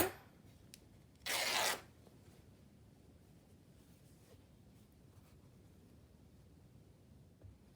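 A single short, bright snip of scissors through a piece of lace, close and crisp, followed by quiet rustling and faint handling sounds.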